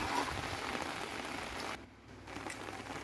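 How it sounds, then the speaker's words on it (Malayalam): Light rain falls steadily in a fishing setting, a continuous soft patter that dips briefly quieter partway through before returning at the same gentle level. "വലിയ മഴയല്ല ചെറിയൊരു മഴ ഇങ്ങനെ പെയ്തു തുടങ്ങിയിട്ടുണ്ട്"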